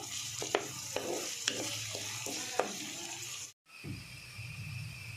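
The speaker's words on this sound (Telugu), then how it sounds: "ఉల్లిపాయలు ఫ్రై అయిపోయినాయండి" Onions fry in a pan with a soft steady sizzle, punctuated by several sharp scraping or tapping stirs, then a sudden brief silence followed by a fresh, louder hiss.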